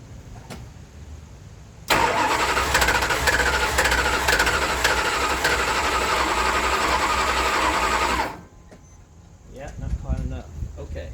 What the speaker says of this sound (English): As you can tell, the motor is spinning faster.